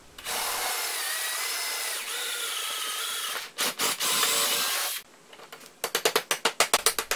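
A power drill whines steadily for several seconds while drilling a small hole through a bolt, pauses, runs again briefly, then gives a series of short rhythmic bursts, close and loud.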